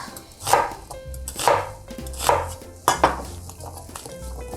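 A knife chops through half an onion on a cutting board in a home kitchen, four firm, evenly spaced strokes with faint clatter between them and no talking.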